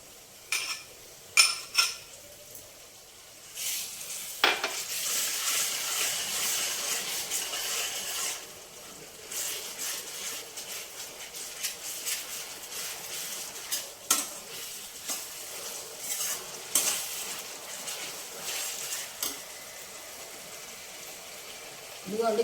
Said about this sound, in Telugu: ఇదిగోనండి, ఉల్లిపాయ చక్కగా వేగిపోయింది